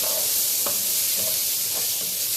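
Vermicelli and rice sauté together in a pot for koshari, with a soft continuous sizzle and a few scraping stirs, close and fairly quiet.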